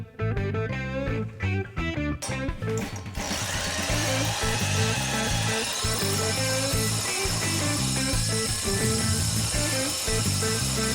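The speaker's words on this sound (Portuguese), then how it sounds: "vai devagar no tempo da máquina e controlando a força que você está exercendo na serra-copo" A hole saw bores through a wooden workbench in a steady, continuous power-tool drone that holds near and loud, with a rougher burst of cutting early on.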